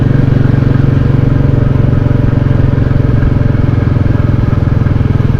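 A Royal Enfield Classic 350 motorcycle engine runs steadily at close range, its thumping single-cylinder beat loud and constant throughout, with no talk over it.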